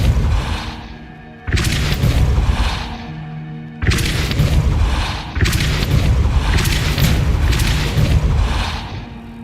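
A Depulso force spell in the game Hogwarts Legacy, heard as loud booming bursts that strike suddenly at about 1.5, 3.8 and 5.5 seconds, each ringing out over a steady rumble.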